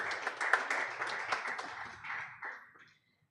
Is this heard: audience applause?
yes